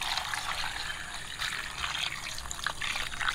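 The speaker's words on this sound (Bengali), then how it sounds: "জল দিয়ে দিচ্ছি" Water pours over raw mangoes being washed, a close, continuous splashing and trickling flow that stays even and fairly soft from start to finish.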